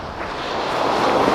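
Ocean surf at Brighton Beach, New York, in late October: a steady, loud wash of breaking waves mixed with wind buffeting the microphone, swelling slightly toward the end.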